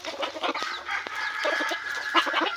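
Several backyard gamecock chickens bred on a Filipino farm cluck repeatedly in a busy, overlapping chatter, close by and fairly loud, with a few sharper calls standing out.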